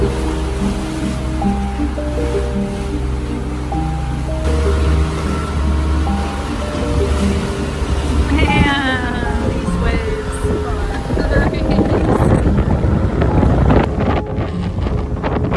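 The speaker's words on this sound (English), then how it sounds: "The waves are on our beam, or were a little while ago." Waves and wind buffet a sailboat at sea in the Cyclades, sails down with the wind on the nose, a continuous rushing wash with microphone wind rumble, loud and close, with hull creaks and a voice talking.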